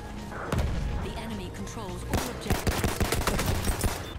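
Video game guns fire in bursts of sharp, rapid gunfire, some of it machine-gun-like, with heavy thumps. The shots grow dense and continuous in the second half, and a player talks over the fighting.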